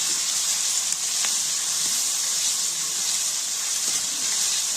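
Onions sautéing in a pan for a Suthumbu fish curry, giving a steady, even sizzling hiss that runs unbroken throughout with a few faint clinks underneath and no speech.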